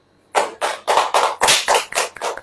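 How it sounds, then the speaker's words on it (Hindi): A congregation at a Hindi-language sermon by Brother Rohit Massey claps in unison, about eight loud, evenly spaced bursts in a steady rhythm, close by, with no speech over them. "ताली बजाएं।"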